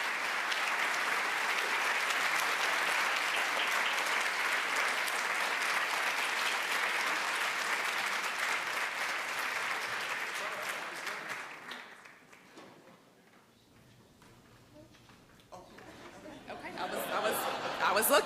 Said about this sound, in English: Let's give a round of applause to Miss Mosby